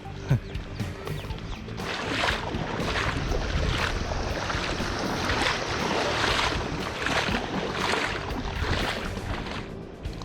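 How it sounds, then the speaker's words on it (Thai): Sea waves roll in near the shore at Ao Bo Thong Lang in Bang Saphan, a loud continuous rush with repeated surges and wind buffeting the microphone. "แหมตรงนี้มัน คลื่นใหญ่ไปหน่อย"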